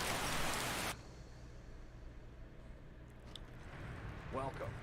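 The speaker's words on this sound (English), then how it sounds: "It's raining" Rain falling in Skyrim, a loud rushing hiss for the first second that drops to a softer, steady patter, with a brief voice near the end.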